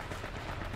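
Rapid automatic gunfire sprays continuously during an H1Z1 Battle Royale match, a dense, steady rattle of shots filling the short stretch without pause.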